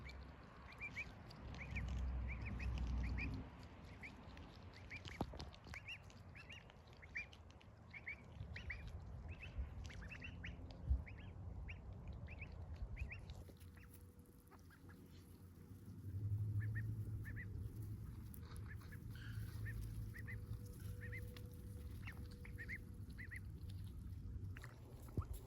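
Pet ducks quacking repeatedly in rapid, regular series of calls, fairly close and moderately loud, with short pauses and a shift in background ambience partway through.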